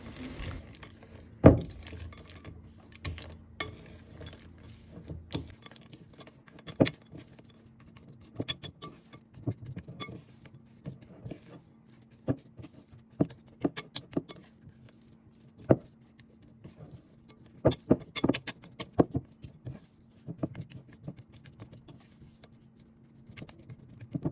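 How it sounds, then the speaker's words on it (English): Chocolate being stirred into chocolate chip cookie dough in a bowl produces scattered light clicks and taps of utensil against the bowl, irregular and fairly close, with no voices. "Now it's time to add the chocolates to the bowl and mix everything."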